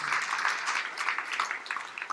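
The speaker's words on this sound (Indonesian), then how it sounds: "Tepuk tangan yang paling meriah." Congregation applauding in a church service, a steady dense patter of many hands held at a moderate, even level for the whole stretch with no voices over it.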